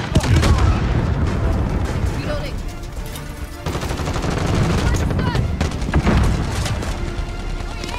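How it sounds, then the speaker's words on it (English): Dense gunfire and explosions in a 10 versus 10 multiplayer Call of Duty match on the Piccadilly map, including an RPG-7 rocket blast, with rapid shots and booms throughout and a player talking over the action. "Okay, kaboom! RPG-7."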